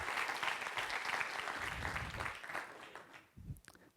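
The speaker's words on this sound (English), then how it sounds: "let's give it a round of applause to all the organizers and volunteers and the sponsors" Conference audience applause at a WordCamp Asia talk, a steady wash of clapping from a crowded hall that holds for a few seconds and then fades away.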